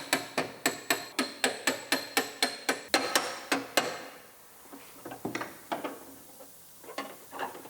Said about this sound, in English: I'm using a body hammer